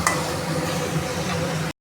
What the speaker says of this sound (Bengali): আমি এবার পটলটা আর চিংড়ি মাছটা দিয়ে আর একটু ভালো করে কষিয়ে নিচ্ছি